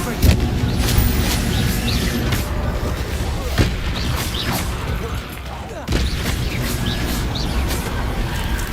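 Confringo explosive spell cast in the video game Hogwarts Legacy, a run of repeated booming blasts and crackling bursts with game effects, loud and close, with a voice calling out over the noise.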